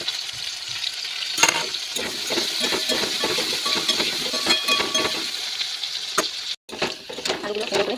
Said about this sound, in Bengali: ওগুলো তো ভাজা হয়ে গেছে, এবারে আমি আলুটাকে ভেজে নেবো।